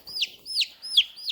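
A hen being handled squawks in four sharp, high calls in quick succession, close and fairly loud, with nothing else heard.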